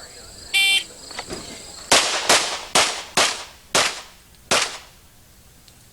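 Six sharp pistol gunshots crack in quick, slightly uneven succession at the 1989 USPSA National Championships shooting competition, loud and close, after a brief electronic start buzzer.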